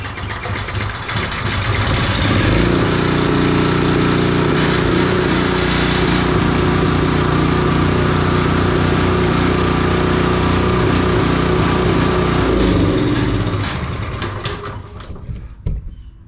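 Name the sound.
Honda GX270 engine running on Dewalt pressure washer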